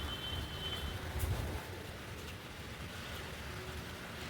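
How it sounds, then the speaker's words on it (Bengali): Rain falls outdoors on garden plants on a rainy day as a steady, close hiss of drops, slightly heavier at first and then settling into an even patter. "বৃষ্টি অলরেডি পড়ছে,"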